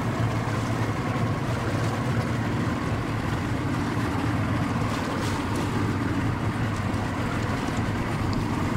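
A motorboat tows a removed engine across icy water during an ice carousel engine removal, its motor a steady, loud, close drone with wind and water noise throughout.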